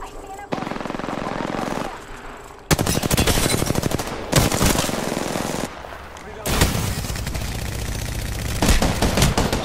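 Heavy video game gunfire comes in loud automatic bursts separated by short pauses, with rapid repeated shots crackling close and harsh across the whole stretch.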